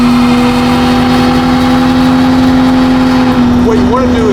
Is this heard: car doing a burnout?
yes